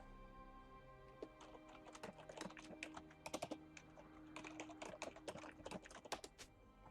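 Typing on a computer keyboard, a fast irregular run of crisp key clicks, close and moderately loud against a steady background hum, with no speech.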